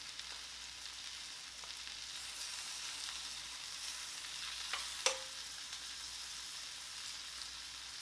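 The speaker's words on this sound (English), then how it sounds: "For the Brussels sprouts, I'm just going to go ahead and add a bit of butter." Room-temperature Brussels sprouts, defrosted earlier, fry in butter in a pan with a soft, steady sizzle, fairly quiet throughout, with a single sharp clink partway through.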